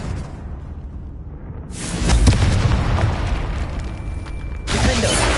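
A Confringo blasting curse in the Hogwarts Legacy video game sets off a sudden loud burst after a quiet stretch, followed by a sustained rumbling roar and a second surge of blast noise near the end.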